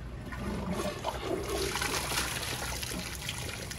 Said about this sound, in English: You naturally flush it a second time.